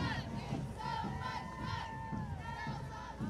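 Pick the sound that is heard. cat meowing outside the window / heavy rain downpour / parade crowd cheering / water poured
parade crowd cheering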